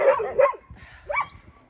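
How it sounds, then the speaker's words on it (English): Several dogs bark outdoors at a ranch, one perched on a picnic table: a couple of sharp barks at the start, then a higher yelping bark after a pause, moderately close with no talk. "There's some of the dogs."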